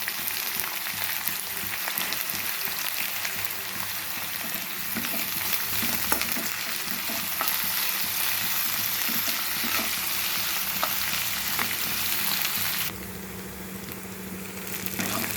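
Onions, green chillies and curry leaves fry in hot oil in a pan for an egg curry, a continuous dense sizzle with stirring scrapes, close and steady, easing slightly toward the end.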